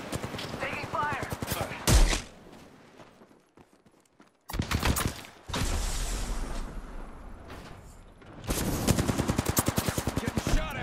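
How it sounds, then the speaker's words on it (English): Rapid automatic gunfire from the video game Apex Legends rattles in several loud bursts separated by quieter gaps, with a sharp impact between them and in-game voice lines heard along the way. "Getting shot at."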